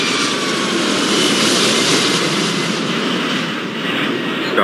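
Steady broadband roar of jet airliner engines at a busy desert airport in the video game Airport Madness 4, a dense continuous wash of engine noise holding at a constant level throughout with no talking.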